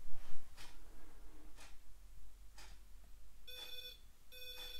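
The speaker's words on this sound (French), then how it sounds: "Vous venez tout près de l'antenne et vous allez capter un son avec des bips de plusieurs couleurs" A ghost-hunting pod device with an antenna gives electronic beeps, at first a few soft evenly spaced blips, then two louder bright tonal beeps, over a faint low hum with no talking.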